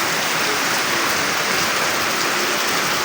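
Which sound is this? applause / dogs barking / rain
rain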